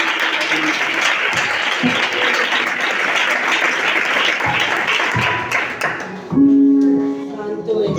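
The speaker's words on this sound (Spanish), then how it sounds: "Un aplauso, iglesia." Applause from a church congregation fills most of the clip as dense, steady clapping, then fades out near the end as a sustained tone rises.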